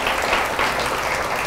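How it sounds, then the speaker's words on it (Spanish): A church congregation applauding, dense steady clapping throughout the brief moment, fairly loud and without pauses. "Denle un aplauso al Señor"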